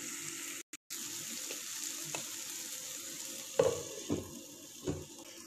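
Tomatoes and spices fry in a covered pan, a low steady sizzle with a brief dropout near the start and a few sharp clinks or stirring knocks later on.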